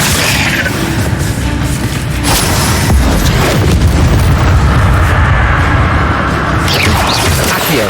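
A fire spell cast in the video game Hogwarts Legacy: loud, dense booming bursts and crackling roar filling the whole stretch, like a sustained fiery blast with overlapping impacts and no clear gaps.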